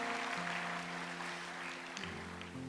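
A church congregation applauds warmly, a faint, even patter of many hands clapping at a distance over a soft sustained musical tone.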